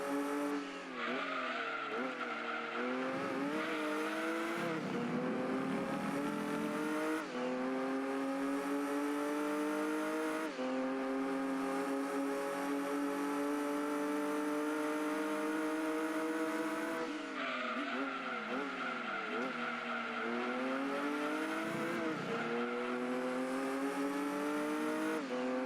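Race cars in Gran Turismo 2, including a Honda NSX, engines howling continuously as they rise and fall through gear shifts, with repeated upshift drops and revving climbs over about twenty-five seconds.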